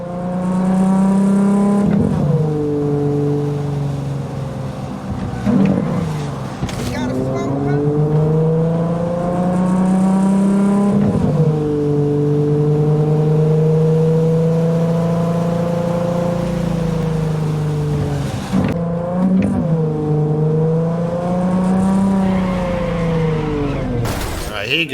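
Car engine from the Cyberpunk 2077 video game, driven in first person: a steady, loud drone with repeated revs rising and falling as gears shift, continuous throughout and talk-free.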